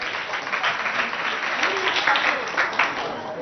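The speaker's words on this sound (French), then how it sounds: "Applaudissez pour vos amis." An audience claps for school pupils at a Catholic school event in Mongo, a dense, steady wash of applause that holds at moderate volume with some murmuring voices mixed in.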